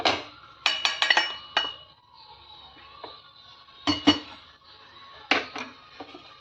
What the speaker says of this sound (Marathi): आणि प्लेटमध्ये काढून घेणार आहे.